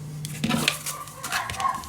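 Dogs bark a few times at moderate distance in an indoor setting, short sharp bursts spread across a couple of seconds, with some yips and no talking.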